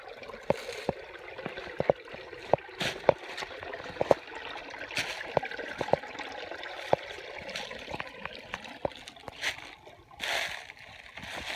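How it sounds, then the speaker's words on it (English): Spring water flowing downstream in front of an overhanging bluff cave, a steady close babble and trickle with scattered sharp splashes and clicks, and no voices over it. "Good flow water."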